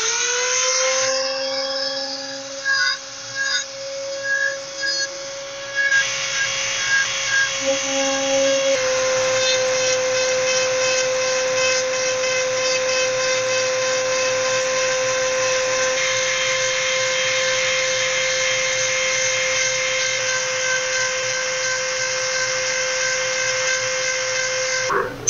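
A power drill fitted with a small round-headed bit presses dimples into a Tikka rifle stock clamped in a vise, a loud steady high whine running throughout with a few brief stops and restarts near the start.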